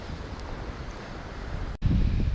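Strong wind blows over a river during a light-tackle trout fishing outing, a steady rushing buffet of microphone wind noise that swells into a heavier low gust near the end.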